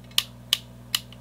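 A ratcheting crimping tool for Dupont connectors clicks as its handle is squeezed, three crisp, close clicks spaced unevenly over a low steady hum.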